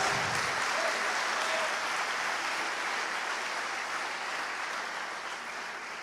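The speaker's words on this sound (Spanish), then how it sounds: "Den un aplauso al Señor Jesucristo." A church congregation applauds during a Spanish-language sermon, a broad, steady roar of many hands clapping that stays loud and even throughout, easing off slightly toward the end.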